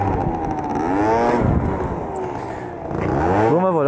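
A 50cc stunt scooter revs hard to lift into a wheelie, its buzzy engine whine sweeping up and falling back, then surging again near the end, close and loud.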